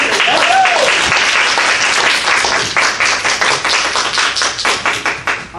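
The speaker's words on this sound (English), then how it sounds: "Give them a round of applause" An audience applauds students lining up on stage at an improv comedy showcase, loud dense clapping that thins toward the end into more distinct claps, with a brief whoop and crowd voices mixed in.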